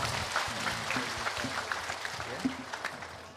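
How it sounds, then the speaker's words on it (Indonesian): An audience clapping in applause at an award event, a continuous patter of many hands at moderate volume with a few sharper individual claps standing out. "Tepuk tangan untuk beliau"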